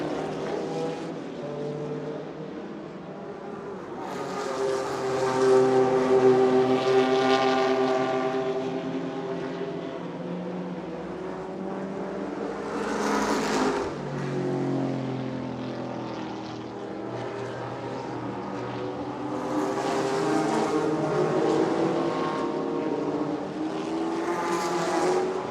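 Vintage race cars, among them a Ferrari 275 GTB, roar past one after another during a classic motorsports reunion race, engines swelling as they approach and fading away, with no voices.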